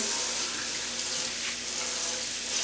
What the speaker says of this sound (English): I rinse it with warm water because I feel like that feels so good